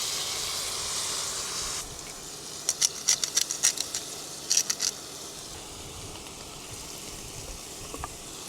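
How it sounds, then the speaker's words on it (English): A burger patty sears in a hot pan inside a Tesla, In-N-Out style: a steady bright sizzle hisses throughout, with a cluster of sharper crackles and pops in the middle and a few faint ticks near the end. "Nice good pan sear."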